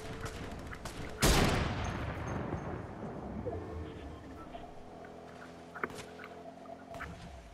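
Gunfire in Fortnite: one loud, sudden blast near the start with a long rumbling decay, followed by faint in-game ambience and a small pop later.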